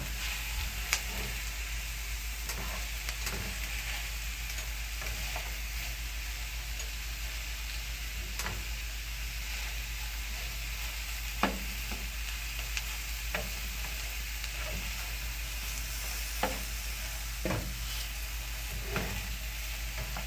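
Cut vegetables fry beside hot Italian sausages in a pan, giving a soft, constant sizzle under a low hum, broken by occasional sharp clicks and scrapes of a utensil stirring, with nobody talking.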